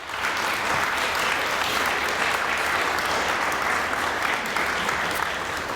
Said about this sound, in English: I'd like to start with a really hearty round of applause for those of you who are in the room today